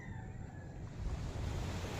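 Sea waves washing onto the shore at Bukana on a morning seashore walk, a steady soft surf wash with wind noise, fairly quiet and continuous, no talking.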